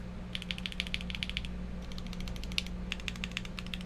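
Keys clatter on a Pangea full-size mechanical keyboard as the numpad is typed on: quick, light, crisp clicks in uneven bursts with short pauses, fairly quiet over a low steady hum.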